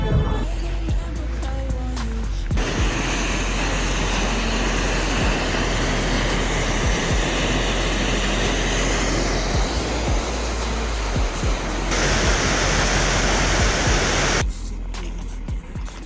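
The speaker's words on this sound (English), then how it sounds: "we're now going to see a waterfall." Steady, broad rushing roar of a waterfall in Iceland, loud and continuous, starting abruptly and cutting off near the end.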